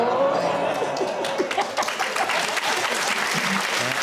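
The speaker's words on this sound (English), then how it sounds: "For that, round of applause." Studio audience applause on a comedy panel show, a dense, loud burst of many hands clapping that runs steadily for about four seconds, with faint talk beneath it.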